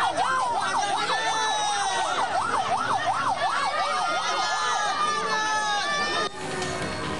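An ambulance siren wails in a steady rapid up-and-down yelp, loud and continuous, over crowd chatter and a news voice talking.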